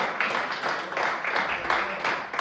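A church congregation applauds with dense, continuous clapping in pulsing waves, loud and close throughout.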